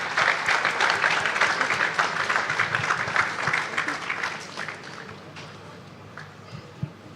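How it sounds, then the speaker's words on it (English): An audience at a data science conference in Africa applauds the organizers. The dense clapping is steady at first, then thins out and fades over the last seconds. "Can you give a round of applause to the organizers?"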